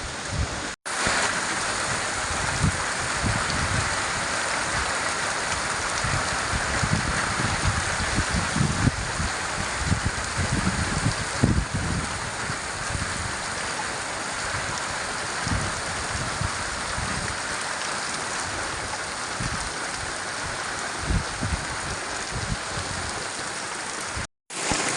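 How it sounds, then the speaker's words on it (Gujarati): Heavy rain pours down over a farm field in a dense, continuous roar of drops hitting the ground and surfaces, loud and steady throughout with no voices. "જબરદસ્ત વરસાદ પડે છે અત્યારે"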